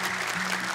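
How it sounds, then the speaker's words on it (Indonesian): Studio audience applauds a young Quran reciter on a children's hafiz competition show, a steady broadband patter of clapping lasting under a second with no voices over it. "tepuk tangan dong untuk Royana"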